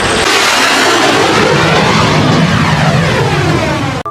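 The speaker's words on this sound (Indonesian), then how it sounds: "ternyata pesawat tempur" Fighter jet sound effect played for a toy plane, a loud, continuous roaring whoosh of jet noise that holds steady for several seconds and cuts off abruptly at the end.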